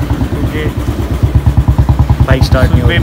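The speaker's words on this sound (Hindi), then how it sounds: "बाइक स्टार्ट नहीं हो रही" A motorcycle's engine cranks repeatedly without catching, a steady rhythmic chugging pulse up close, with brief higher whines near the end and a voice talking over it.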